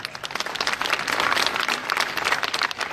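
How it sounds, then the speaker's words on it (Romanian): Lively audience applause for accordionist Paul Stângă at a live seaside stage show, a dense, steady wash of many hands clapping for the full stretch with no talking. "o să vă invit să-l aplaudați tare, tare de tot"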